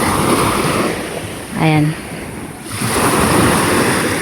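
Surf washes steadily along a seashore at sunset, a broad continuous wash with some wind on the microphone, dipping briefly while someone speaks a short word over it.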